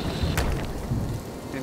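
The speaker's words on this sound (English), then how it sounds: "Raining? The storm is coming." Rain hisses steadily in the game Wrap Star as a storm rolls in, with a low, rumbling thunder undertone and a brief sharp crack early on.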